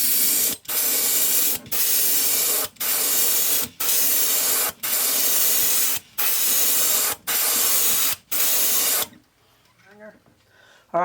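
Polyacrylic clear coat sprayed onto a wooden J-plug trolling lure from an aerosol can, in eight loud, close hissing bursts separated by brief pauses, then a quiet stretch with a voice at the very end.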